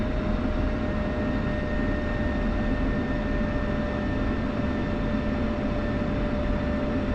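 A jet taxiing in the DCS flight simulator gives off a steady, continuous engine roar with a constant whine, loud and unbroken throughout, with no talking over it.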